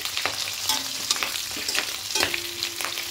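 Halved boiled potatoes sizzle in hot oil in a kadai, a continuous close crackle punctuated by a few sharp stirring knocks.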